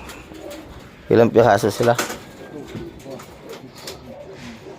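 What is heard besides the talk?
pigeons cooing inside a loft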